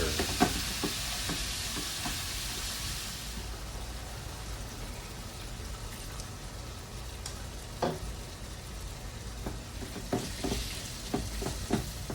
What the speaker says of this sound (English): I'm gonna mix all this together.